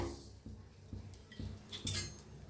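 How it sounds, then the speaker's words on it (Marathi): Peanuts and sesame seeds dry-roast in a kadai over a gas flame, giving soft crackles and pops along with a few regular scraping knocks from the stirring spoon, close up and fairly quiet. "बघा कसा आवाज यायला आहे छान असं भाजायला लागले शेंगदाणं तीळ"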